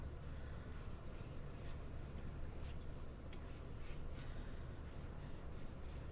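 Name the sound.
drawing clouds with pencil on paper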